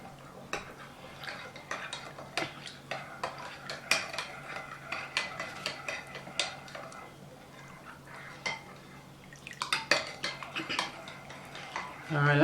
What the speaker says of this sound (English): you want to keep stirring it up till it's all mixed in